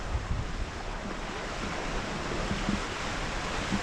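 Waves washing onto Paguera beach in Mallorca, a continuous broad hiss of surf mixed with wind noise on the microphone, steady and fairly close with no talking.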